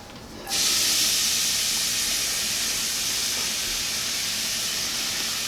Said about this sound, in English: So we're just going to sweat out these onions.